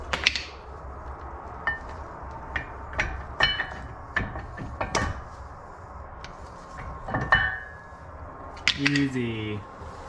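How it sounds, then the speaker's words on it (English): Sharp metal-on-metal hammer strikes on a punch, knocking out the brake caliper pins on a Honda Civic Type R during a rotor swap, about a dozen irregular close knocks with a voice talking between some of them. "you have a punch like we do to remove the pins holding this in."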